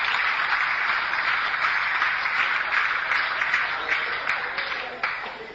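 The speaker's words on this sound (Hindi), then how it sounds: "एक बार तालियां बजाएं आपके लिए" An audience in a hall bursts into applause, a steady crackling wash of many hands clapping that holds fairly loud, then begins to thin and fade toward the end.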